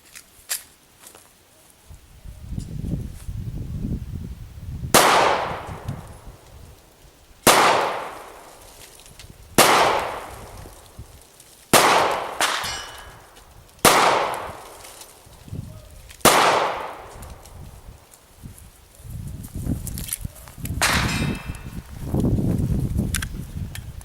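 A Kahr PM9 pistol fires about nine sharp, loud gunshots at a 5-yard range, each ringing out and decaying, spaced a couple of seconds apart with quiet handling noise and shuffling between them.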